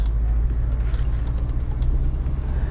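An old Mercedes V8 roars steadily up close, a loud, dense low rumble that holds without a break.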